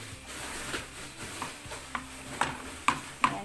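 Garlic frying in a pan for homemade siomai, a soft low sizzle beneath occasional crisp clicks and scrapes from a ladle stirring, the taps growing more distinct toward the end, close up with no voices.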